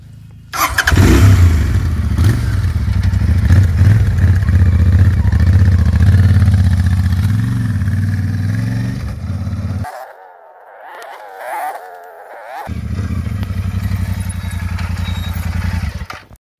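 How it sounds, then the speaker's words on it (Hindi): A Royal Enfield Interceptor 650 motorcycle rumbles loudly and close, its engine droning and revving for about ten seconds, then dropping to a quieter idle before building again. "तो अब लेते हैं बाइक का एक टेस्ट, बाइक को चलाते हैं"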